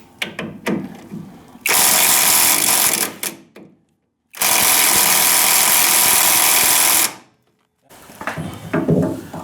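Two long, loud bursts of a power tool, likely an impact wrench, spin off 14mm bolts on the lower control arm of a K-swapped Honda Civic. Brief quieter clatter sits between and around the bursts.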